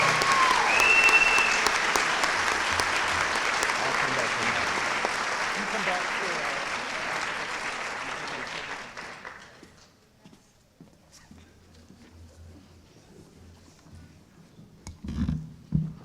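At a high school senior honors convocation, a large audience applauds the young people in a long, dense round that fades out after about nine seconds, leaving quiet room sounds and a brief closing rustle.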